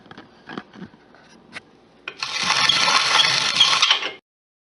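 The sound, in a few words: hand-cranked grain grinder grinding grain into bread flour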